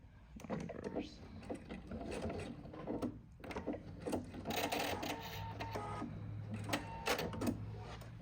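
Short bursts of a sewing machine stitching quilt binding, quick stops and starts with clicks and thumps between runs as the fabric is turned and the stitch reversed, close and fairly quiet.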